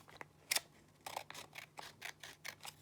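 Scissors cut strips of folded paper in a quick series of short, crisp snips, close and quiet, with a steady rhythm after one louder opening cut.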